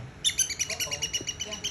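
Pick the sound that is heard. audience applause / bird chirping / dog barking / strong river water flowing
bird chirping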